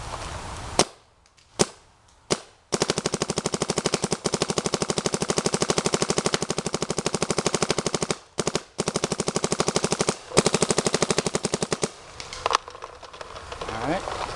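A Luxe 2.0 paintball marker fires a long rapid-fire string of sharp pops, loud and close, after a few single opening shots, with brief pauses and a few more isolated shots near the end.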